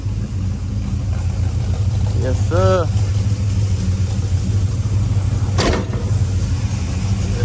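A restored 1970 Monte Carlo with a new engine idles with a deep, steady rumble, close and continuous, while someone talks briefly over it and a short sharp knock sounds near the end.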